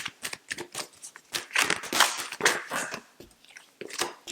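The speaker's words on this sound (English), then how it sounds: "So let's give these a shuffle until the first card falls or flips" Tarot cards being shuffled by hand in a quiet indoor setting, a dense run of crisp riffling and flicking bursts with brief pauses, close and moderately loud, no talking.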